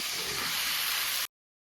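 Meat fries in oil left over from frying potatoes, with chopped onion, tomato and capsicum added, making a steady loud broadband sizzle and hiss that cuts off abruptly into silence.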